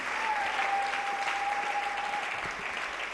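Loud, sustained applause fills a church assembly at a worship service, a dense steady wash of clapping with a faint held tone running through it.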